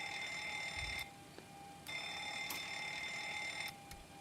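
A Boeing cockpit fire alarm in the X-Plane 12 flight simulator rings as a steady electronic bell tone. It breaks off briefly twice, then resumes, and sounds close and moderately loud over a low background hum.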